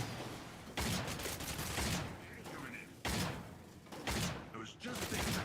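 SMG fire from mole miners in a video game, several loud bursts of rapid shots in quick succession, interleaved with thuds and mechanical clanks, fairly close and dense throughout.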